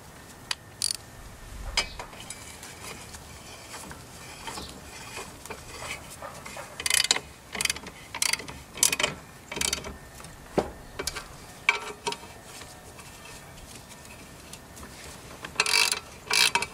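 A hand ratchet tightens the 9/16 nuts on a Toro Recycler lawn mower blade, giving bursts of quick metallic clicks in uneven runs with short pauses between them, close and fairly quiet with no talking.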